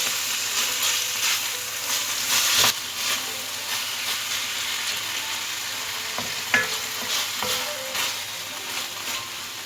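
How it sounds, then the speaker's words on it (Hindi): A chicken filling with ketchup fries in a pan, keeping up a continuous close hiss and sizzle with occasional spatula scrapes and clicks, one louder knock near the middle. "ये सब चीज़ें डाल के सिर्फ 2 से 3 मिनट के लिए इसे फ्राई करूँगी।"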